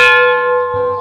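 A loud notification bell sound effect rings out alone as a single sustained, bright metallic chime with clear overtones, decaying over about a second.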